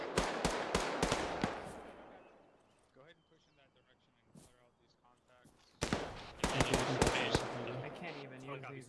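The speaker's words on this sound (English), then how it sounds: "I have a individual at the brick building to the southwest shooting at me." Gunshots from a lone shooter at a brick building during a military field training exercise, a rapid cluster of sharp cracks early on, then quieter stretches with voices, followed by another burst of close, loud shots.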